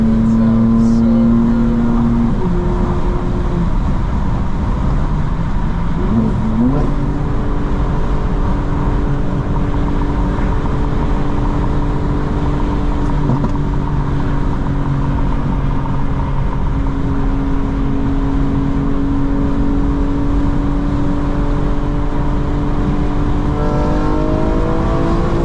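A 900 hp 2025 BMW M4 Competition xDrive engine held at a loud, steady drone with pitch shifts as it revs and settles, continuous and close throughout.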